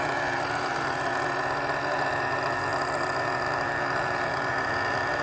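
A nitro-powered RC car engine, a Team Mattech 3.3, Vrx2 or Revo 3.3, running at a steady buzzing idle during break-in. It stays close and continuous for the whole stretch, with no talk over it.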